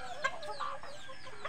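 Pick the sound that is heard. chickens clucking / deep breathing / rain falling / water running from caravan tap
chickens clucking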